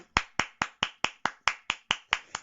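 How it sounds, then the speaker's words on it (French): A single pair of hands claps at a live celebratory show, eleven sharp, evenly spaced claps, close and fairly loud, with no talk over them. "applaudissons très très fort pour Adolina Nganou"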